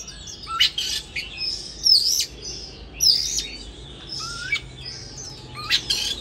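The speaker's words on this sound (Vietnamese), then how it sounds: "đến ngày hôm nay thì là chim vẫn cứ chơi hót múa là ok nhé" A caged big-tailed oriental magpie-robin sings clear, bright whistled phrases and chirps in short bursts, with brief pauses between them, close and alone.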